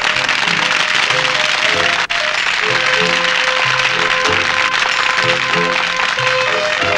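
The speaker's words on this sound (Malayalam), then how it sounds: "എല്ലാവരും കൈയടിച്ച് പ്രോത്സാഹിപ്പിക്കുന്നു." A stage magic show audience applauds steadily for a young girl walking onstage, dense continuous clapping mixed with background music throughout.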